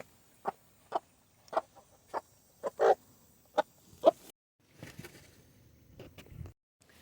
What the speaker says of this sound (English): Wanted to show y'all a little bit of chicken action.